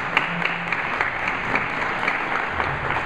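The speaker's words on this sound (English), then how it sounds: "if you would please rise for a round of applause" Steady applause from a standing audience at an event hosting Charles Sousa, dense clapping that holds evenly throughout without pause.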